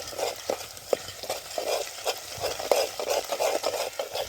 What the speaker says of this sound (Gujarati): આપણે હલાવી નાખશું મસાલો બધો મિક્સ થઈ જાય